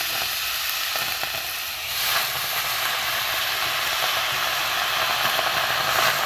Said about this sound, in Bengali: এমনি শুকনো খোলায় আমি এগুলো একটু নেড়ে নেব।